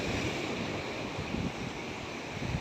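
Sea waves crash and churn against the rocks at Poompuhar beach, a broad, continuous roar of surf with wind buffeting the microphone, unbroken and without voices.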